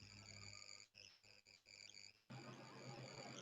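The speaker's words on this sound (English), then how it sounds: "somebody has some crickets in there" Crickets chirp through a participant's open microphone during an online meeting, a near, steady pulsing trill that cuts out briefly several times before resuming louder with added background hiss.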